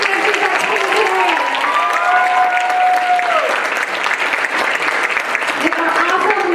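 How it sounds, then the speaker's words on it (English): Loud applause and some cheering from a crowd at a university swing dance club showcase, clapping steadily for the guest dancers while a voice speaks over it. "Let's have another round of applause for all of our guest dancers that came today."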